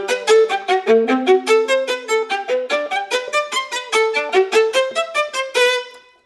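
A bowed string instrument plays a quick run of short, detached notes bounced off the string, close and clear, in a lively, even rhythm with no talking over it.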